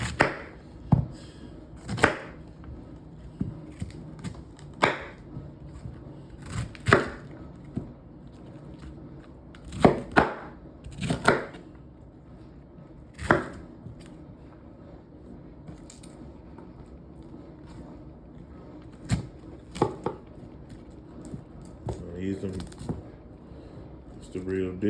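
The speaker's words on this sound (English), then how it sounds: "chopping into that butter" A knife chops into cooked lamb chops on a board, giving sharp, irregular thuds and clicks spaced a few seconds apart, close by, while someone talks in between.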